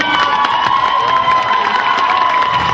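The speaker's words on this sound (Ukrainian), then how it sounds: "Оплески." A large crowd cheers and applauds continuously, a dense wash of voices and clapping with a steady tone running underneath.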